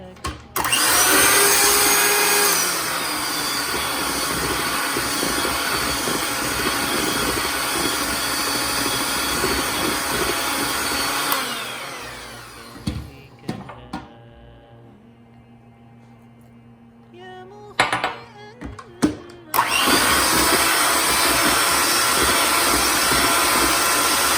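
Electric mixer beating vanilla Bundt cake batter, a loud steady whirring motor that runs continuously, cuts out for a quiet stretch with a few clatters, then starts up again loudly.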